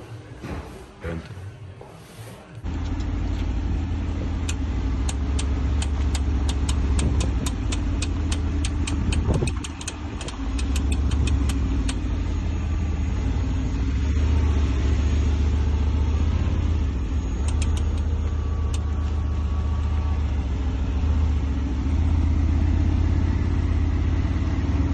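Mercedes-AMG GT R idling with a ticking engine fault, a steady close low rumble carrying a rapid run of sharp ticks for the first several seconds, then a smoother idle with occasional ticks.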